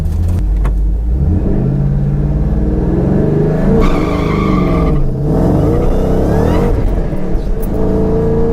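A Ford Shelby GT500 on MT ET Street drag tires launches hard, its engine roaring loud and close as it revs, shifts and pulls through the gears, with brief tire noise at the start.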